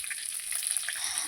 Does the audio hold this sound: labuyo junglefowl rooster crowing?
no